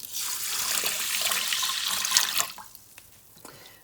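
Water poured from a container into an Instant Pot holding rinsed millet, a steady loud splashing pour that tapers off after about two and a half seconds, followed by a few faint drips.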